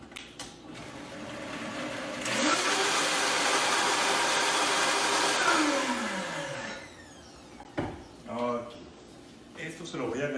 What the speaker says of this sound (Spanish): Yo voy a moler esto un poquito para agregárselo a mi pollo.